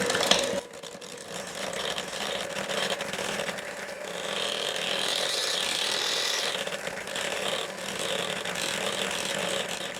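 Pumpkin sugar cookie batter being beaten together with a mixer, a steady whirring and rattling drone that runs continuously and fairly loud for the full stretch, with no talking over it.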